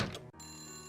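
A telephone ringing in a Nancy Drew haunted-mansion game, a single short, faint electronic ring tone that cuts off and resumes as a sustained tone.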